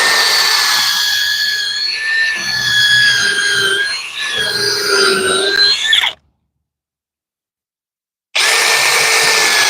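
A high-pitched power drill with a small bit whines and squeals continuously, biting into a willow tree stump, then cuts off abruptly before starting up again.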